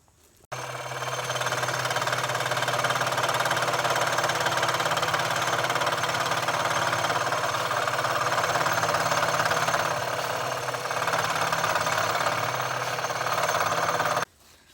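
A power saw cuts through a hook knife handle in one continuous, loud buzzing run of about fourteen seconds, starting and stopping abruptly, with a steady vibrating drone throughout.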